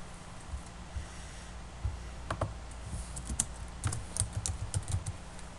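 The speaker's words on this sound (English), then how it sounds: "I'll simply place my cursor where I want to add the word South and start typing." Close, fairly quiet keystrokes on a computer keyboard come in short irregular bursts, with a few louder clicks among them, over a faint steady hum.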